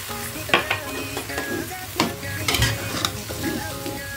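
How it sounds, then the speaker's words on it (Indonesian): Capcay vegetables stirred in a frying pan with about 100 ml of added water, a steady wet sizzle broken by repeated scraping and clinking of the utensil against the pan, close and alone. "Kita aduk-aduk kembali"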